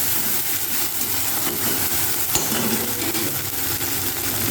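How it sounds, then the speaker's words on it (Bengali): A spice mix with salt and turmeric fried and stirred in a pan for a Bengali bata fish and bori curry, giving a steady close sizzle with soft scraping throughout. "পুরো মশলাটাকে আমি ভালো করে কষিয়ে নেব।"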